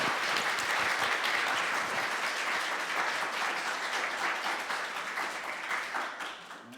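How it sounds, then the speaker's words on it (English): Sustained applause from a conference audience after a data literacy session, a dense steady wash of many hands clapping that holds strong and fades slightly toward the end, with no talking over it. "So a round of applause for all of our speakers."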